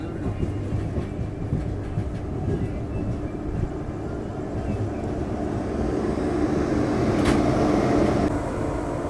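The Coimbatore Express pulls into Anantapur station, a steady heavy rail rumble with faint clatter that swells slightly toward the end, close by and continuous.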